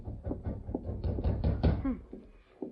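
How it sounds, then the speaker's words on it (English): Knocking on a door in a 1946 Lone Ranger radio drama: a series of loud, close rapping knocks in quick rhythm, with resonant room tone and no talk over it. "Rapping on the door."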